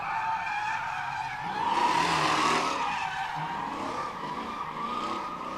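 A Hemi-powered automatic four-door car revs hard while its tires squeal in a long, steady screech that swells and then eases, loud and close, with engine roar underneath and no talking.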